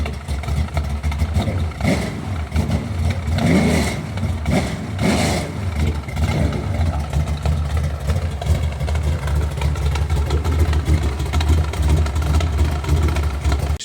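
A freshly built 415 cubic inch small-block Chevy V8 runs steadily at its first startup, a loud, continuous low rumble with a few bursts of revving near the start before it settles into an even idle.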